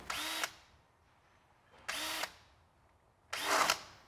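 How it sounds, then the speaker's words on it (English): Power drill chamfering pre-drilled holes in a boat's gel coat: three short, close bursts of whining rotation, each about half a second, separated by quiet pauses, the last rougher as the bit bites. "we're going to remove the tape and we're going to chamfer the holes slightly"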